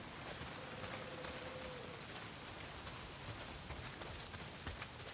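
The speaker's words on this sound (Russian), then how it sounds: "Какая охота? Дождь хлещет." Heavy rain pours in Days Gone as a steady, even hiss of drops drumming on surfaces, faint and unbroken, with no voices.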